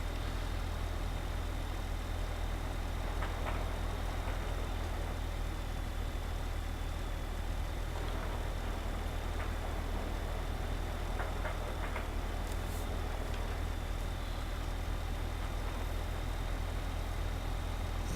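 A tractor engine idles and runs steadily in Farming Simulator 2015, the tractor set up to tow a harvester header; a low, continuous drone holds at moderate level throughout with no talking.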